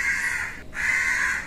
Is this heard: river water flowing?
no